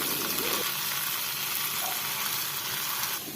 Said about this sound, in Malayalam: ആ എണ്ണ ചൂടായിട്ട് ഓരോ ബോളായിട്ട് അതിലിട്ട് പൊരിച്ചെടുക്കാം